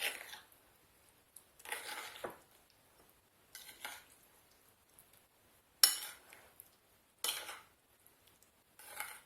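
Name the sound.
stirring apple filling with a utensil in a bowl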